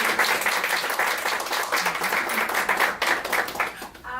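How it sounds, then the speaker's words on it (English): A crowd at a book release celebration claps in a lively round of applause, dense and steady at first, then thinning and fading out near the end. "Give her a round of applause."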